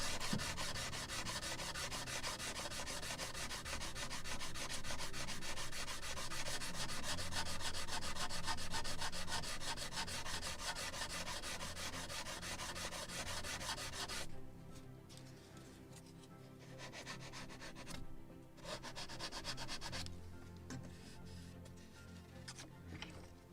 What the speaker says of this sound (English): I believe this is 400 sandpaper.